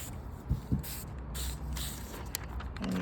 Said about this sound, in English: spray instead of dip.